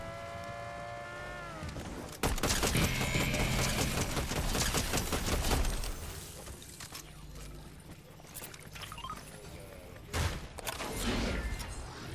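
An enemy Shogun in Fortnite fires gunshots in bursts: a sharp volley hits early, then a busier stretch of firing follows, with a loud crack near the end among other game sounds.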